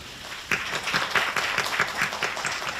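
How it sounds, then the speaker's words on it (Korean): Audience applause at a press launch for a Korean TV drama, a steady wash of many hands clapping that swells slightly after the first half second and carries on for about three seconds. "수고하셨고 박수 한번 칠까요?"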